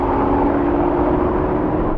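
A BMW M5 Competition accelerates hard in a drag race against an Audi RS6 Avant, Porsche Panamera and Mercedes-AMG, giving a steady, loud engine roar that holds without a break.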